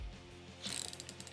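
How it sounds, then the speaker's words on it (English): A fishing reel's drag is tightened during ice fishing for pike on Mille Lacs, giving a quick run of close, crisp ratchet clicks that starts partway through and continues steadily to the end. "I'm just gonna tighten up the drag here and just go for it."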